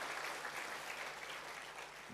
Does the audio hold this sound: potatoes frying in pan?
no